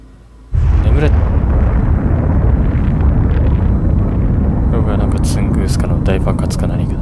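A massive explosion erupts in Assassin's Creed II, a sudden loud boom that swells into a sustained roaring rumble, with crackling debris and bursts of sharper noise later on.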